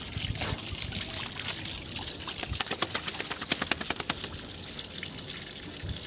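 Water trickles and splashes steadily during a child's bath at home, a soft continuous pour with a burst of sharper dribbling drops in the middle, quiet and close, with faint voices in the background.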